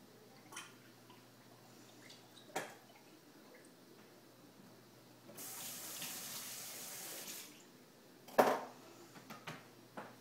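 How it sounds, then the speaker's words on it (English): Running water rinses the tip of a thermometer in vinegar water while making cold process soap, a quiet tap flow with a brighter burst of splashing midway and a few sharp clinks near the end. "now I'm washing off the tip of this thermometer in the vinegar water."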